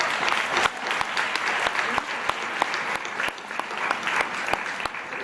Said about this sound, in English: give it a round of applause for her